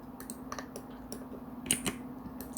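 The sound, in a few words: computer keyboard keys and mouse clicks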